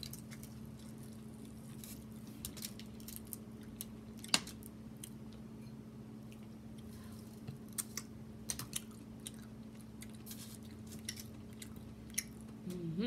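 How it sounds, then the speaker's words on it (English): Someone eats green mussels in sauce at close range, with wet squishing and chewing and sharp little smacks scattered through steady background hum and no talking. "I'm gonna try those green mussels again."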